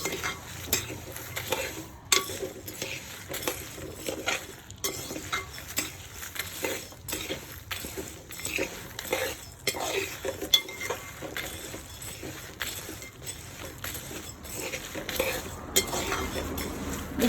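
A semolina mixture for homemade protein powder roasts in a pan while a spoon stirs and scrapes it, giving repeated scraping strokes, occasional clinks against the pan and a faint sizzle throughout.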